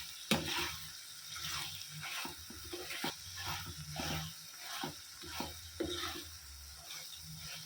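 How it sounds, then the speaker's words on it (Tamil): Mutton thokku with a bunch of fresh coriander leaves being mixed in a pan, repeated soft scraping strokes at an even rhythm over faint sizzling, quiet and close, with no talking. "இதை நல்லா கலந்து வச்சுக்கலாம்"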